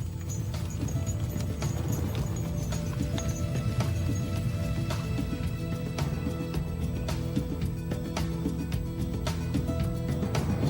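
Horses pulling a chariot gallop steadily, hooves beating in a fast, continuous clatter over a dense rumble of wheels and movement that lasts throughout.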